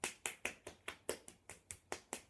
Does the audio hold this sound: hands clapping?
yes